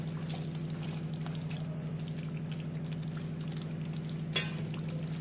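Prawns in a thickened curry sizzling steadily in a pan, a continuous loud frying hiss with a constant low hum beneath and one brief clatter near the end.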